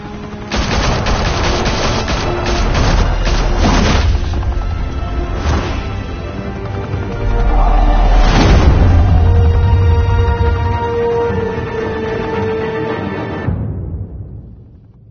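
Gunfire and explosions erupt in a Batman scene, a dense, loud barrage of rapid shots and crashing blasts sustained for most of the stretch, with heavy booming impacts around the middle before fading out at the end.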